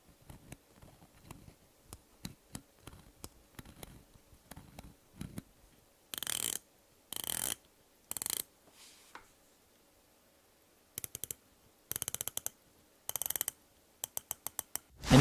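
San Martin GMT watch bezel being turned, first soft rapid ratchet ticks, then several crisp bursts of sharp clicking from other San Martin bezels, close and alone.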